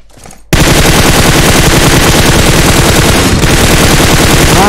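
Dense, continuous automatic gunfire in a PUBG match, likely an M416 assault rifle, bursts in loud and rapid after a brief quiet moment and rattles on without pause, close and overpowering.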